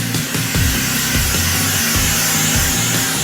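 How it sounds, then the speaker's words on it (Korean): Hand sanding of a solid wood kitchen cutting board with sandpaper, close and loud, with a gritty scraping hiss and rhythmic rubbing strokes repeating every half second or so. "도마 하나당 30분 이상 이어지는 사포질."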